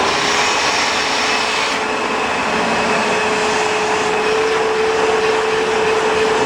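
A Kenmore Special Edition vacuum cleaner runs steadily and loudly, with a constant broadband whirring drone and a thin high-pitched whine that continues throughout without pauses.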